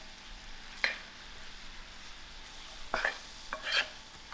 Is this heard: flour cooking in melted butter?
yes